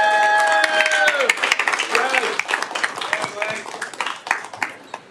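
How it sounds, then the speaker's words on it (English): Dense crowd applause with cheering and shouts at a Key to the City ceremony, strong at first and thinning out over several seconds, with voices rising above it. "Another round of applause for our living legend."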